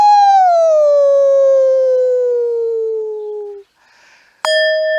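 A human voice imitates a wolf howling, one long sustained howl sliding slowly downward in pitch before fading, followed after a short gap by the sudden start of a steady tone.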